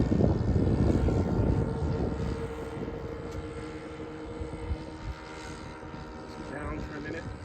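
A Commander propeller aircraft in flight drones steadily with a humming, tonal engine note that stays fairly faint and distant throughout, slowly settling in level, with no clear talking.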